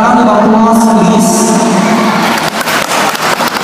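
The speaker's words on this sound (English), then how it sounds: "A round of applause, please." An audience at the Bado-Badoc Festival Ms. Gay Universe crowning claps and cheers loudly after an introduction, with a dense wash of applause, shouts, and whoops that thins into separate claps toward the end.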